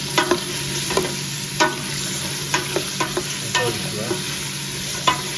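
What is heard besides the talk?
vegetables sautéing in olive oil for stew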